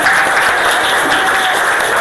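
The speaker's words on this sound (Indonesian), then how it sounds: "tepuk tangan untuk 10-10" Classroom applause from schoolchildren after a game result, a steady dense clapping wash throughout with faint voices mixed in.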